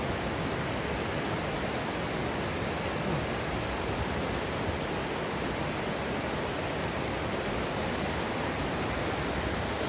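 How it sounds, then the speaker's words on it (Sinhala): A rushing forest stream on an off-season Sri Pada hike pours in a dense, constant roar, loud and close, with no voices over it. "මේ වතුර පාර අඩු වෙන්න ඕනේ අපිට පහළට යන්න"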